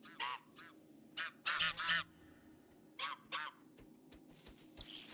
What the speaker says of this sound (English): Got some gray lag goose coming in as well.